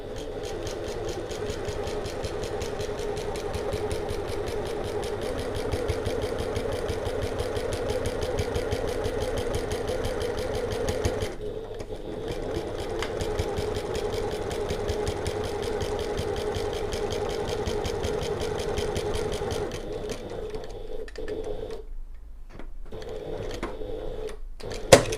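Domestic sewing machine running steadily for a long stretch, stitching along the right side of a tote bag seam with the seam allowances held down; a short pause near the middle, then it resumes before stopping in brief bursts near the end.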